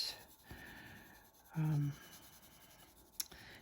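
Caran d'Ache Luminance colored pencils rub across paper while coloring skin tones, giving soft, quiet scratchy strokes with a short spoken word and one brighter tap near the end.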